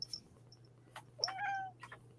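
A cat meows once with a rising, drawn-out cry inside a room, heard close and fairly clear over a low steady hum, with a few faint clicks around it.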